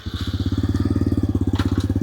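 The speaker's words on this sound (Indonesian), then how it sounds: "Jadi kalau misalkan kita nyalain motornya," A WMOTO Porter 125 underbone motorcycle engine starting and settling into a fast, even putter, close and steady with no talk.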